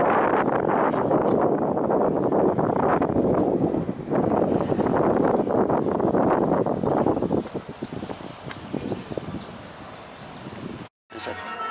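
Strong wind buffets the microphone on a chilly day in Cordoba, a loud, continuous rushing roar that dips briefly near the end.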